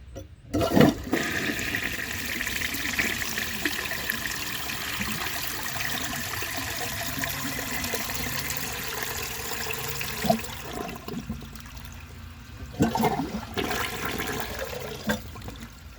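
A 1948 Kohler Brooklands toilet flushing, with a loud close rush of water that runs steadily, then trickles and refills, with a few clunks along the way.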